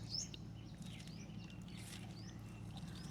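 Small birds chirp outdoors in a village in Mullaitivu, giving short, thin rising tweets scattered over a steady low rumble of background noise.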